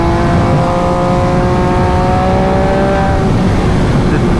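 An MV Agusta Brutale 800 RC motorcycle accelerates, its engine note climbing loud and close over steady rushing wind noise.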